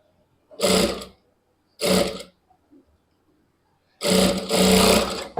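A sewing machine stitching a half-inch seam on a lehenga runs in three short close bursts, the last one longest, with brief quiet gaps between them and no talking.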